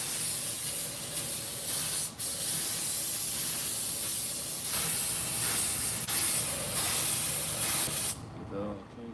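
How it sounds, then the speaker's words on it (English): Parts cleaner sprays from an aerosol can in long, loud, close hissing bursts with brief pauses between them, ending in quiet. "Parts cleaner."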